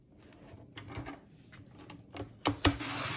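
Piano roll music paper being trimmed to size, with soft rubbing and rasping paper strokes building to two sharp, close cuts near the end, no talking.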